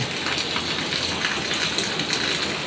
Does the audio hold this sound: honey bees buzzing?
no